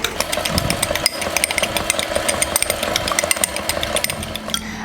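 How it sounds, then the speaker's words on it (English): Electric mixer whirring steadily through batter in a bowl for a diabetic-friendly recipe, a loud continuous motor drone with a rough, gritty edge, heard alone without talk. "I'm going to go ahead and mix it"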